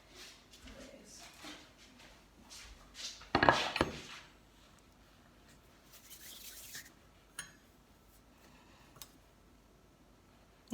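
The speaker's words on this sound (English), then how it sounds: "So you scrape it." A knife scrapes and drags across a chopping board in a home kitchen. The board strokes are faint and scattered, with one louder clatter around the middle, and quiet talk runs intermittently beneath them.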